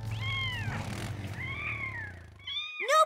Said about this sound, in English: There's a kitten stuck up in Old Shady.